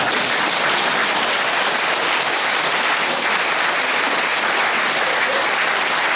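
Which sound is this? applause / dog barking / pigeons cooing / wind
applause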